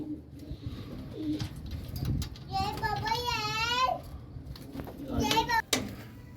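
Pigeons in a rooftop loft coo in a soft, rolling call amid nearby chatter and children's voices, with someone speaking close by.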